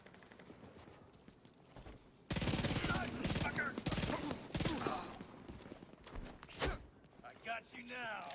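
An RPK light machine gun firing in The Division 2 video game makes a sudden burst of loud, rapid automatic fire that continues in bursts with other gunfire, while players talk over it.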